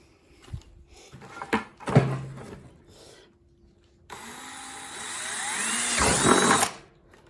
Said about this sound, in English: That drill bit might have been too big.